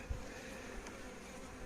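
Honey bees at an apiary in Santeny, a faint, continuous buzzing hum from the hives, low in level and steady, with a soft bump of handling noise at the start.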